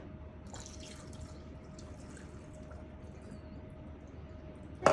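Water pours into a pot of keto cauliflower and pork porridge with bouillon, a steady soft trickling and dripping that holds through the stretch, with a short louder splash right at the end; no one speaks.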